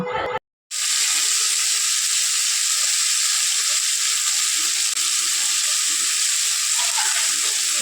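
Tomato and mustard paste fry in a wok with a loud, continuous sizzle and a faint scrape of stirring, after a brief moment of silence at the very start.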